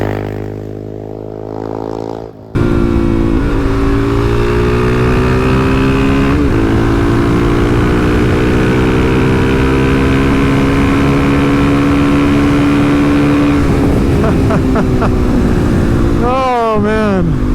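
A Suzuki DRZ400SM supermoto motorcycle ridden hard on a road, its single-cylinder engine droning loud and close as it climbs through the revs, with wind rush and quick rising revs during gear changes near the end.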